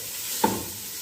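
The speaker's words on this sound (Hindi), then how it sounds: "अब 1 मिनट इनको फ्राई करूँगी, ज़्यादा नहीं।" Vegetables for chicken soup fry in a pan with a soft, steady sizzle, broken by a brief stir or clink partway through.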